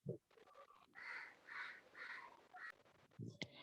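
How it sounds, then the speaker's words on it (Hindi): A crow caws repeatedly in short, raspy bursts, faint and somewhat distant, heard through someone's open microphone during an online Hindi class, with a brief voice and a sharp click at the end. "कौवे जैसी आवाज आ रही है, किसका माइक चालू है?"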